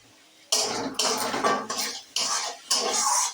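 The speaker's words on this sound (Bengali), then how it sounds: "আমি মশলার সঙ্গে আলুটা খুব ভালোভাবে মেশাতে থাকবো" Fried potatoes stirred into masala in a pan, heard as several distinct bursts of a metal spatula scraping and clattering against the pan, separated by short silences, close and fairly loud.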